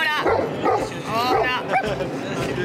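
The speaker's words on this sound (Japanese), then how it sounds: "最近喜んで吠えるようになったの。" A Great Pyrenees dog yips and barks happily in quick, excited bursts, close by, with a person's voice mixed in between the barks.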